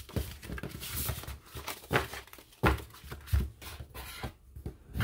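Scored card stock is folded and burnished by hand: close, papery crinkles and rubbing swipes in uneven bursts, with sharper creasing snaps now and then.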